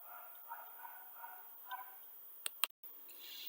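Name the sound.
neighbourhood dogs barking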